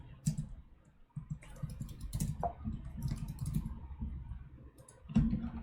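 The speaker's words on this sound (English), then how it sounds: "I don't mind typing this out," Computer keyboard typing while code is written out for a LeetCode hard problem, rapid uneven clusters of close key clicks with short pauses, a heavier burst toward the end, no talking.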